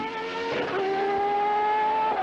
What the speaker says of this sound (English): The car is fitted with a new Renault V10 RS2 engine, with Patrese's major task engine testing